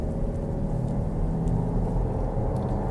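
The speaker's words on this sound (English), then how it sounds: "So let's take it for a drive and see how it performs on the road." A 2018 Volkswagen Tiguan driving on the road, heard as a steady, close low rumble of engine and tyre noise with a constant whir and no talk.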